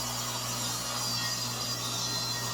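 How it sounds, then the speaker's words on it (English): A table saw cuts through plywood in a steady, unbroken rasping whir over a low motor hum, close and constant for the whole stretch. "So I went ahead and cut a few pieces of plywood on the table saw."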